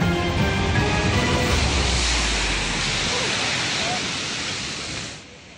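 During a typhoon storm surge, sea waves pound the shore at Virac, Catanduanes, in a continuous roaring wash of surf with wind rumble, loud and close, easing slightly toward the end.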